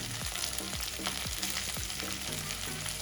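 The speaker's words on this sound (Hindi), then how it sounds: "नाज़रीन 1 मिनट हो गए हमें मिर्चें फ्राई करते हुए।" Green chillies frying in oil with crushed coriander, carom seeds and cumin give a steady, dense sizzle, with a few soft spoon stirs and scrapes heard clearly over it throughout.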